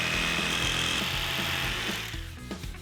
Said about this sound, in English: we'll simply cut that out with a jigsaw